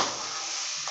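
Seasoned shrimp goes into a pan of golden-browned garlic with a steady, close sizzle, a brief burst of frying with no voices.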